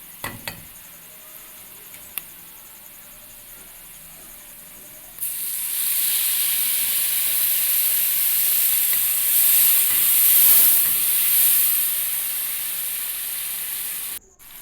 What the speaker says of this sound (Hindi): इसको मज़ीद 5 मिनट के लिए मैं मसाले को फ्राई करूँगी और इसकी ताकि इसकी अच्छी तरह से भुनाई हो जाए।